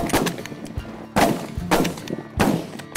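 Shotguns firing during a snow goose hunt on a foggy morning, four sharp loud blasts in quick irregular succession over about three seconds.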